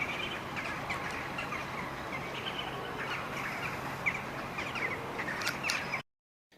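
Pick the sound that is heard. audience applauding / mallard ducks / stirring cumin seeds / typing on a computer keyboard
mallard ducks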